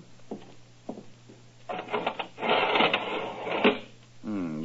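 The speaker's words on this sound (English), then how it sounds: "go inside and lower the iron shutter" An iron window shutter is lowered, a loud close rattling and clattering run of metal slats with a few knocks before it, ending in a hum.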